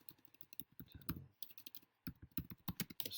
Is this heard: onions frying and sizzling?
no